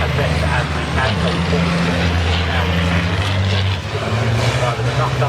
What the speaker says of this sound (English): The big rigs head out to circuit for the first time today